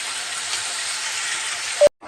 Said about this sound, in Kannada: ಈಗ ಸ್ವಲ್ಪ ಇದು ಟೊಮೊಟೊ ಸ್ವಲ್ಪ ಫ್ರೈ ಆಗಲಿ